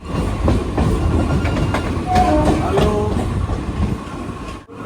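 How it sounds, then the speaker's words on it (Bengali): A nearly empty passenger train heading toward Sheoraphuli rolls along the rails with a loud, continuous rumble and faint rhythmic clatter of wheels. A brief squeal rises midway. "একদম ফাঁকা ট্রেন, আরামদায়ক জার্নি আছে।"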